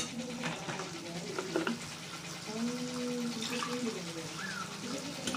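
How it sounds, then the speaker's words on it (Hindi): Water pours into besan gatte gravy simmering in a pan on the stove, a steady splashing sizzle with stirring clatter, close and moderately loud. "इस स्टेज पे मैं इसमें पानी ऐड करूँगी"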